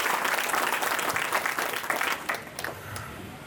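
Villagers at a swearing-in ceremony applaud to bless a newly formed committee, a dense burst of hand clapping that fades toward the end.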